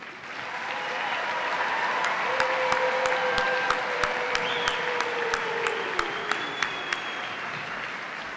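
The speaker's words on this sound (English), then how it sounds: "let's give our graduates one final round of applause." Commencement audience applauding the graduates, a broad steady wash of clapping in a large hall, with sharp rhythmic percussive hits ringing out over it partway through; fairly distant and sustained.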